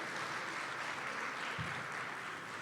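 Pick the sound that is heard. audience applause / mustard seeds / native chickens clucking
audience applause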